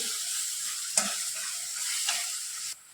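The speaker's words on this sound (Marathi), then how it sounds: "आता आपला कांदा छान परतून झालाय" Onion fries in a pan for Marathi pithla, a steady bright sizzle with two brief stirring clatters before it suddenly drops away.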